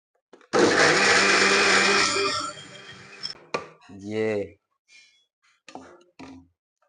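A brand-new mixer jar blending juice on its first use gives a loud, steady whirring roar for about three seconds, then stops abruptly, followed by a few clinks and bits of talk.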